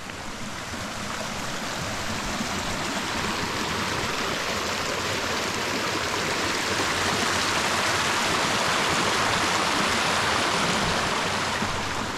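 Trout Creek flowing beside a highway in a BLM area, a steady broadband rush of moving water, close and loud, continuous with no voices.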